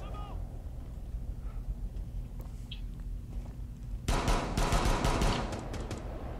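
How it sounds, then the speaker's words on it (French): Submachine gun fire in the Rainbow Six Siege video game bursts out in a rapid rattling volley in the last couple of seconds, preceded by quieter game ambience and faint clicks. "Oh, mitraillette."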